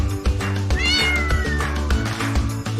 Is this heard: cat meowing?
yes